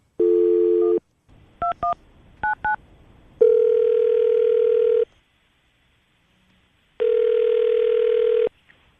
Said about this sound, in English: Get her on the phone right now.